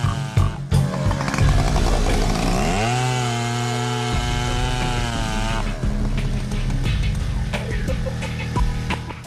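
Motorcycles racing in a desert rally in Rajasthan's sand dunes: a loud, continuous buzzing engine roar with a rising revving pitch sweep, then sustained high whine and scattered mechanical clatter.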